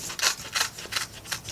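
Four crisp snipping bursts in a steady rhythm, close by, like scissors cutting through paper.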